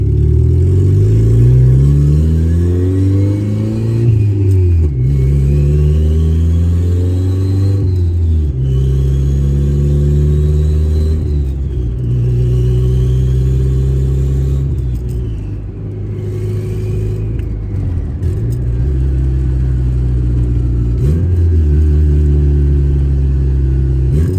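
Car engine loudly revving up and dropping back repeatedly as it runs up through the gears from first to fifth, each shift marked by a falling pitch before it climbs again, steady and close throughout.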